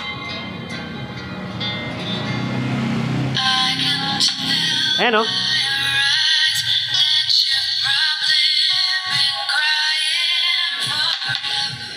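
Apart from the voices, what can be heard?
tweeter speaker driver playing test sound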